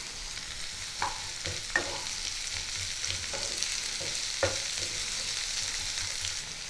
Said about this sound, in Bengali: আদা রসুনটা একটু ভাজা ভাজা করে দিয়ে দেব পেঁয়াজ কুচি